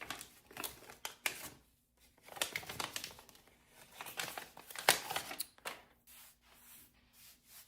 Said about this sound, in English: Going to rip off this last bit of the paper